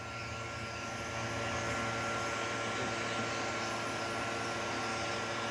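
A pet hair dryer blows warm air steadily while a Shih Tzu is dried during grooming, a constant loud whooshing hum with no talk over it.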